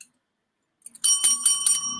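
A bright chiming notification bell rings out after a moment of silence, its tones ringing and sustaining for about a second, clear and alone with no voices.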